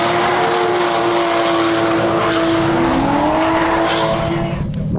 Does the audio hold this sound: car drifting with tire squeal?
yes